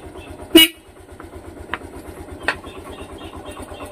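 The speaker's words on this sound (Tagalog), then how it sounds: "Busina." A Yamaha YTX motorcycle horn gives one short loud toot over a steady idling engine putter, followed by two fainter clicks from the switches.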